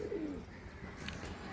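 A Madrasi pigeon in Kolkata gives a short, soft cooing call near the start, faint and close, followed by quiet background with no speech.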